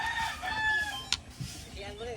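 Chicken at a rural Filipino farmyard clucking and crowing, with a rising call at the start and softer clucks later, fairly faint, with some voice in the background.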